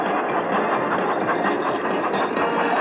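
Train engine chugging in a children's train video game, a steady mechanical rumble with faint rhythmic pulses running continuously at moderate volume, no voices.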